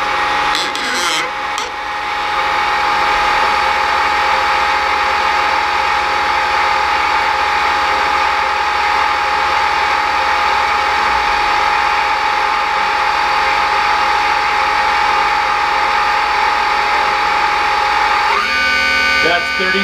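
Nomura NN32YB2 machine spindles spinning at 2500 RPM, heard from close range: a loud, steady mechanical whine with an even hum that holds for most of the stretch. A brief change comes near the end.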